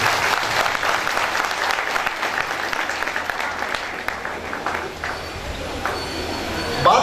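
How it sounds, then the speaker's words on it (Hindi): A large crowd at a public function in Jaigaon gives loud, dense applause that holds steady for several seconds, thins slightly, and then swells again at the end. "चलिए मैं चाहूंगा एक जोरदार ताली सभी के लिए होनी चाहिए"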